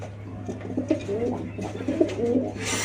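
Racing pigeons in a loft, hens sitting on eggs, give repeated soft throaty coos close by, overlapping in a continuous low murmur.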